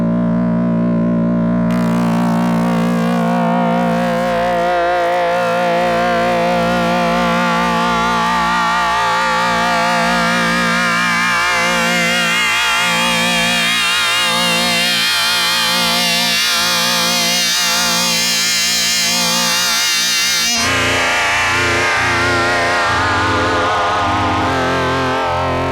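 A Motor Synth MkII synthesizer with wave folding plays a loud, dense, buzzing sustained tone that slowly rises and sweeps with shifting harmonics, then drops to a lower register near the end, all without voices.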